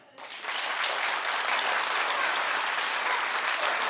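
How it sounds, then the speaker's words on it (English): After a brief quiet moment, a daytime talk show studio audience breaks into full applause, which quickly swells and stays loud and steady to the end. "clap if he shouldn't."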